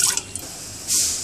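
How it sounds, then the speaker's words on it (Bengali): Half a cup of water poured into a cooking pot: a short, close splashing pour near the end, after a few faint drips. "একটা পাতিলে হাফ কাপ পানি দেব"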